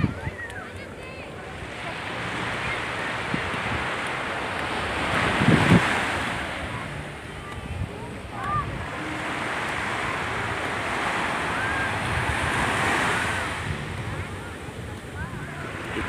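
Sea waves break and wash up on a beach, a steady rolling surf with gusts of wind noise and swells rising and falling, while people talk in the background.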